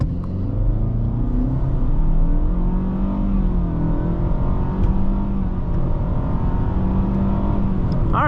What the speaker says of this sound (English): 0-60 2025 Nissan Altima SV all-wheel drive